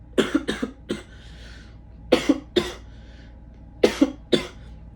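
A person coughs in three quick clusters of two or three sharp, close coughs, with brief pauses between, no speech; caused by talking a lot, not illness.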